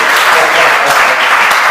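Church congregation applauding, a dense steady wash of clapping filling the whole short stretch, loud and close, with some voices mixed in.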